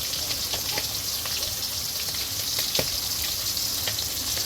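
Chopped onion fries in hot oil in a pan for tempering boiled vegetables, giving a steady close-up sizzle with small crackles and pops and no talking.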